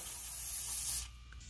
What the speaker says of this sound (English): I'm just going to spray everything.